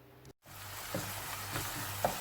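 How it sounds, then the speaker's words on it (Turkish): Finely chopped onions sizzle and crackle steadily in hot oil, a soft continuous frying hiss with a brief stir partway through. "küçük küçük doğradığım soğanımı kavuruyorum"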